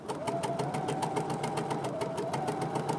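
A Bernina 46C sewing machine sews a decorative stitch with pin tucks, giving a steady, rapid, evenly pulsing mechanical whir close by, with no talking.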